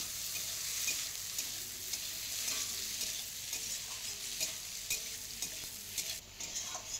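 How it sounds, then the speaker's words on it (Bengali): Chopped tomatoes frying in a pan for a spicy fish chorchori, with a steady, close hiss of sizzling and occasional soft stirring clicks throughout, no voices. "এবার দিয়ে দেবো কুচনো টমেটো"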